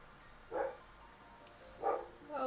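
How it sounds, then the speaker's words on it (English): A dog barks in the Final Fantasy XIV game: three short, moderately loud barks spaced over a couple of seconds, with no talk over them. "Estinian, why must he bark so?"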